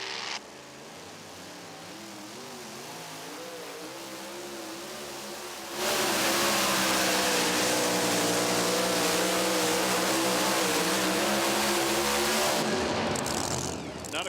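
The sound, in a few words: pulling tractor engine roaring during a tractor pull run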